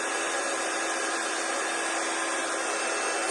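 A heat embossing gun blows hot air over a watercolour birthday card, a steady close whooshing roar that holds without a break from start to finish.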